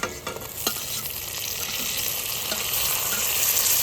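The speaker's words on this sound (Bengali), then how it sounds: "কি সুন্দর পেঁয়াজগুলো ভাজা হচ্ছে।" Sliced onions fry in a pan for mutton curry, giving a steady, close sizzle that builds slightly, with a few sharp stirring scrapes near the start and no talking.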